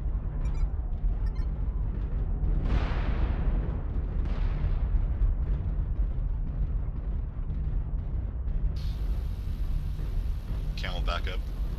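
Missile explosions in a first-person military video game land as a couple of deep, rumbling booms over constant low battlefield noise, with a voice talking at the start.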